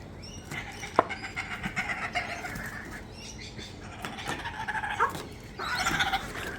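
Birds snatch food and fly off, with bursts of wing flapping and chirps mixed with rustling close by; several short flurries over a few seconds, no speech.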